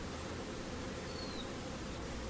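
Honey bees hum at an open hive during a pre-harvest inspection, a dense, steady, soft buzz from many insects close by, with no voices.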